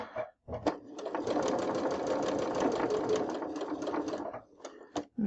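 A sewing machine stitches pieced quilt block fabric in one steady run of several seconds, its rapid mechanical chatter close and clear, bracketed by a few short clicks and quiet gaps.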